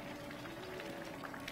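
Yam pottage seasoned with palm oil bubbles steadily in a pot, a continuous soft boiling burble with faint pops, quiet and close, no voices.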